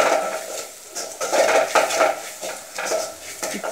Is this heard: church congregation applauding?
no